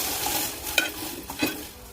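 Boiled white peas tipped into a hot pan and stirred, soft sizzling with a couple of clinks and scrapes of a spoon, no voices.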